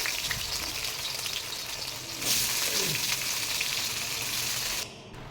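Vegetables frying in oil in a wok for Bengali khichuri, a continuous loud sizzle that surges brighter partway through as more goes in, then drops quieter at the end.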